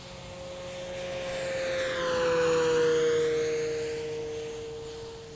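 A Durafly Supermarine Spitfire Mk2a, an 1100mm EPO foam electric RC model of the WWII fighter, passes overhead with a steady whining motor and propeller tone that swells to loudest in the middle and fades again, with no talk.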